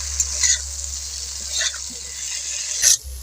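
Masala for a bhindi dish sizzling softly in a pan while being stirred, with occasional scraping bursts over a steady low hum.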